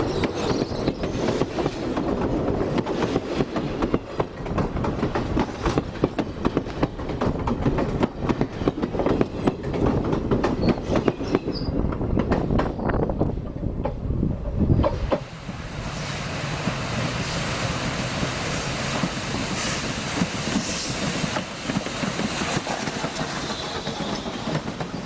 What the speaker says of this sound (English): I wanted to get a picture of the train as it steamed past me on the trail.